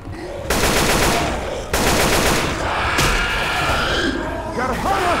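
Rapid automatic gunfire fills a Left 4 Dead 2 swamp level on expert difficulty, loud sustained bursts broken by short pauses, with game voices calling out over the shooting.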